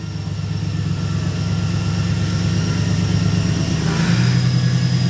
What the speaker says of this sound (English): We're going to let it idle up a little bit